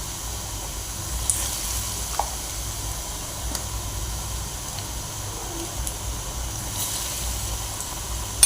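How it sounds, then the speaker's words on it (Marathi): Potato bhaji fritters fry in hot oil with a steady, even sizzle, close and moderately loud, and a few faint clicks break through now and then. "आता राहिलेली भजी आपण अशीच तळून घेणार आहोत।"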